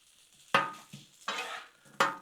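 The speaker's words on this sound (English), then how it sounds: "Start mixing our bacon up." Bacon sizzles on a Blackstone griddle while a metal spatula scrapes and stirs it in three or four sharp, close strokes over a faint background sizzle, with no talk.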